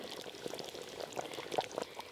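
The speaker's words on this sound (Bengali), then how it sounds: "এবার ঢেলে নেব।" Cooked mutton curry is poured out, a brief soft liquid sloshing and trickling heard nearby with a faint background hum. No talking.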